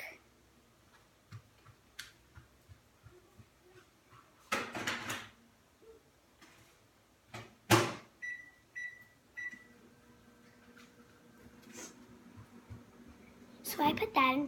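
A microwave oven heating a graham cracker s'mores mix hums quietly, with a few short electronic beeps and scattered clatter of dishes nearby, and a voice speaking now and then.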